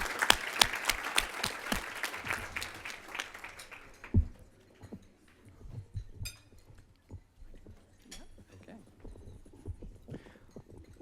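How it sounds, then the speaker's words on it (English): Applause for nonprofit award recipients at a community leadership celebration, a few seconds of clapping from the audience that quickly fades, followed by quiet room noise with scattered thumps and low hum. "Let's give one more round of applause for all the nonprofit recipients"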